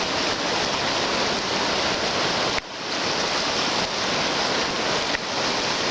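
Flooded New River running very high, a steady broadband roar of rushing water that fills the whole clip with no talking.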